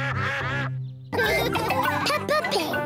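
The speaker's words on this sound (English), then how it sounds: "Say goodbye to the ducks." Cartoon ducks in Peppa Pig quack in a short burst of close, nasal calls, following a brief lull after sustained sound.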